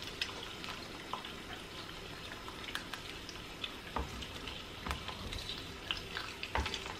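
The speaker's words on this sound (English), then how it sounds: "I'm just gonna put some eggs to cook quickly" Eggs frying in a pan over low heat give a steady, close crackling sizzle, broken by occasional sharper pops and clicks of the spatula or pan, with no one talking.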